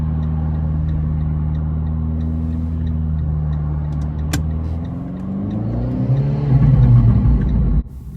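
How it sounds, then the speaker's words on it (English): A manual car's engine idles at a steady, unchanging note while the driver searches for the bite point without finding it. A low, continuous rumble swells slightly near the end, and no talking is heard. "As you could hear, the engine note did not drop, signifying that she was not in a gear or she hasn't found the bite point."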